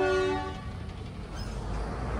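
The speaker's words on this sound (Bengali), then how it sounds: "তো ট্রেনের হর্ন দিয়ে দিয়েছে" A local DEMU train from Lataguri to Siliguri sounds its horn once, a loud tonal blast in the opening half-second that cuts off, followed by low station rumble and distant noise.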